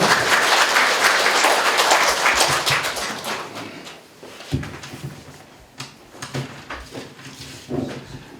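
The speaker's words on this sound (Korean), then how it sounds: "뜨거운 환영의 박수를 부탁드립니다" A packed lecture hall audience gives welcoming applause at a public lecture by the mayor, loud dense clapping for about four seconds that fades into a few scattered claps and room noise.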